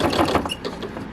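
A sewing machine stitches through a thick car mat, a steady mechanical whir and needle chatter running close and moderately loud for about a second.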